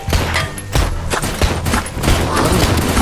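Rapid bursts of gunfire from a mobile zombie shooting video game, loud and dense, with shots rattling in quick overlapping volleys throughout.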